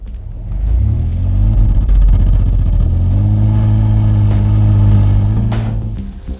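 A 1998 Oldsmobile Intrigue's Shortstar engine revving under acceleration, a loud, harsh mid-pitched drone that climbs and holds at higher revs before easing off near the end, heard alone.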